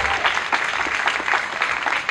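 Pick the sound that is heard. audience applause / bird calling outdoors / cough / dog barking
audience applause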